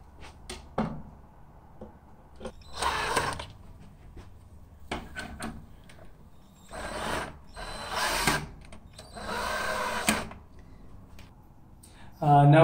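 A power drill drives screws into wood for a corner stand in several short whirring bursts separated by pauses, close and fairly loud, with handling clicks between runs.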